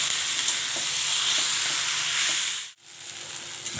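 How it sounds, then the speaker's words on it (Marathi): Onion, tomato and coriander masala sizzles steadily in a pan while being stirred for chane chhole, a close, continuous frying hiss that drops out briefly near the end and then resumes. "तर हे सगळं आता याच्यामध्ये आपल्याला छान असं परतून घ्यायचं आहे."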